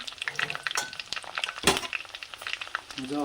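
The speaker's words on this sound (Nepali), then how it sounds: "मजाले खराउने हो" Potato pickle mixture roasting in a hot pan, with a steady close sizzle, scraping and stirring strokes, and a sharp clink of utensil on the pan partway through.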